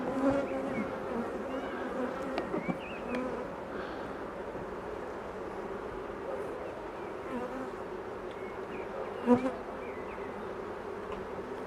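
Bees buzz around an open hive during an inspection, a close, continuous droning hum with individual insects flitting past and a brief knock near the end.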